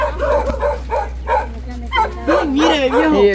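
A small dog yips and barks in short bursts close by, mixed in with a man's Spanish speech and other voices talking over it.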